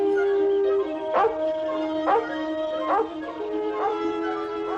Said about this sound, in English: There goes the dumbest dog this side of the Mississippi.